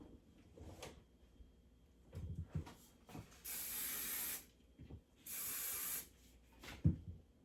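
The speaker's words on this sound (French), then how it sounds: "on va juste aller mettre un peu de spray et on va juste aller lousser" Hair spray hisses onto hair in two bright bursts of about a second each, separated and surrounded by soft handling knocks and rustles of the can and hair.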